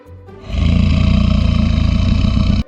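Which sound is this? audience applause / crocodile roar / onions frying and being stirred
crocodile roar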